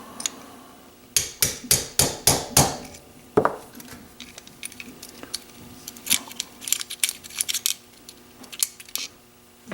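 Small hammer taps a pin out of a Ruger Mark IV pistol, a quick run of about six sharp metallic knocks followed by a heavier strike and then scattered lighter taps, close and without talk.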